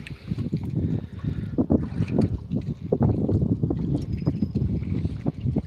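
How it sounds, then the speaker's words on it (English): Freezing wind blowing across the ocean at a moored houseboat, a steady low rumble of gusts buffeting the microphone, with light water sloshing beneath. "Got a freezing wind coming straight in here."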